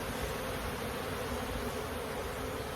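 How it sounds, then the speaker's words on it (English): Honey bees swarm around an opened hive during an inspection, a steady, dense buzzing hum that stays even throughout with no breaks. "Most of the bees you see that are flying off are deciding to investigate who's trying to get in their hive."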